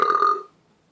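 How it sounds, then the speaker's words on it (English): A single loud, close burp from someone drinking Aspall Peronelle's Blush cider, a low throaty rasp lasting about half a second before cutting off into quiet. "that was a just particularly disgusting burp"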